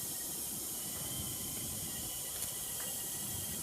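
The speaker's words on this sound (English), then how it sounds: "let's go ahead and drain the oil" Engine oil drains from the oil pan of a Ford 6.0 Powerstroke, a steady soft hissing pour that continues evenly throughout without pauses.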